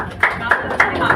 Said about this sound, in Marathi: जरा टाळ्या जोरात होऊ दे